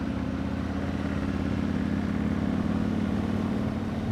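A Yamaha MT-01 with its big V-twin engine cruising through winding Hakone, Japan roads, a steady low rumbling drone with wind rush, constant and unbroken throughout.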